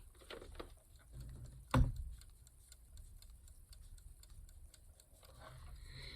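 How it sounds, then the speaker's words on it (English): Quiet, regular ticking from a talking alarm clock in a still room, soft even clicks repeating close by, with one brief louder knock near the start. "And you can hear it ticking."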